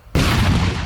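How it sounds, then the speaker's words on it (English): A C4 charge blows up a truck in a loud, sudden blast that opens with a sharp crack and settles into a heavy, roaring boom that rumbles on for the rest of the moment. "This is actually the biggest explosion, more than the tank."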